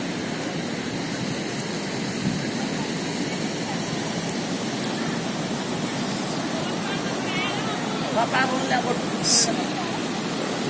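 A steady wash of surf rolls continuously onto a beach on Havelock Island in the Andaman and Nicobar Islands, broad and hissing, with faint distant voices and a brief sharp sound near the end.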